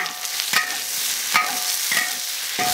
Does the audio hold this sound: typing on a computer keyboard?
no